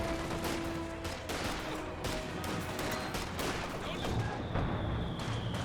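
Company of Heroes 2 gameplay, an infantry firefight: dense, continuous rifle and machine-gun fire crackles throughout, with overlapping bursts and sharp shots at mid distance.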